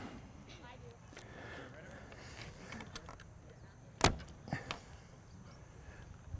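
An archer's arrow strikes a fabric target at an outdoor archery demonstration, one sharp loud impact cutting through steady background crowd murmur, followed by a couple of fainter knocks.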